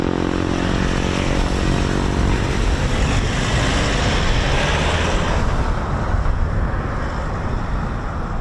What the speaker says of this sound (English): So there's another Typhoon just taxiing probably to meet this one.